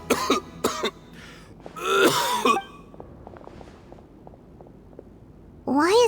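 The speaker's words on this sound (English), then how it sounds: "Why is he coughing so much?" A man coughs and clears his throat in harsh bursts in the video game Genshin Impact, then soft footsteps tap quietly before another rough cough.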